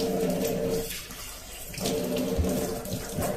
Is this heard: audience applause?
no